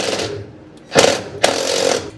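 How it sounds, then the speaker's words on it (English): Wrench turning on a truck, heard as loud, close metallic ratcheting and grinding in two forceful bursts separated by short pauses. "Forgot which way I had the wrench turning."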